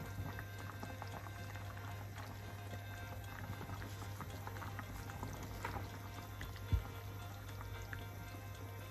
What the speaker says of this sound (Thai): หม้อเขากำลังเดือดจ้ะพี่น้อง